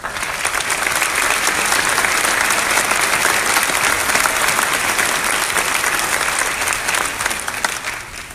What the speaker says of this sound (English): Would the faculty please stand so that we can recognize you with our applause for a job well done.